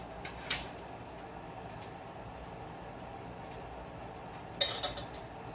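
A metal pan clanks as it is shifted between stove burners, then a spoon clatters as it is picked up: two short bright metallic bursts over a quiet kitchen hum.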